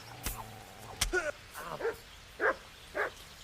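A few short dog barks and yips, moderately close, amid Kingdom Come: Deliverance game sound effects with a sharp impact near the start.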